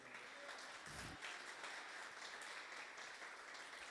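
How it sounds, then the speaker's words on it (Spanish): A church congregation applauding during a Spanish-language sermon, a faint, continuous wash of many hands clapping heard from a distance, with no voices over it. "Dale un fuerte aplauso al Señor."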